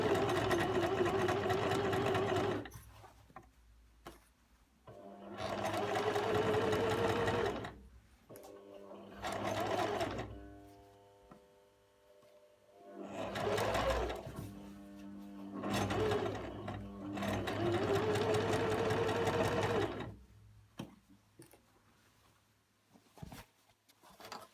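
A sewing machine runs in several long bursts of rapid stitching along a skirt seam, each run whirring steadily for a few seconds before stopping, with quiet pauses and small mechanical clicks in between.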